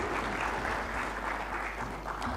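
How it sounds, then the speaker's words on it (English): An audience claps at a public lecture, a steady wash of moderate applause heard at a distance, continuous over a low hum without talk. "Let's give them again another round of applause."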